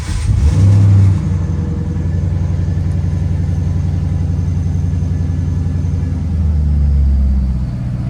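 A 2012 FPV GT car engine cranks and starts close by with a loud surge, then settles into a steady rumbling idle before a second rev swells and fades.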